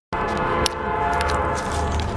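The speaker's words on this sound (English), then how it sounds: "We live really close to train" A passing train sounds its horn, a loud sustained blast heard near a home and lasting the whole two seconds, with rumbling underneath.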